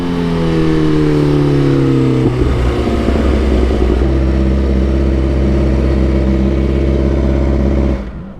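A superbike screams hard on a race track, its high-revving engine climbing in pitch, dropping briefly at a shift, then pulling loud and close again before fading out at the end.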